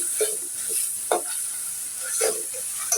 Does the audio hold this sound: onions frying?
yes